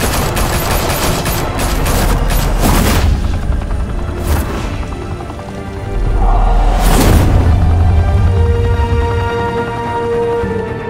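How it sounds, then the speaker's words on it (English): Gunfire in the Batman Telltale video game fills the scene as a loud, dense fusillade of rapid shots and heavy booms, with whooshing bursts rising and fading across the stretch, no voices heard. "Open fire!"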